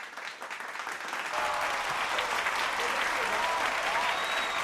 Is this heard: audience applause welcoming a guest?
yes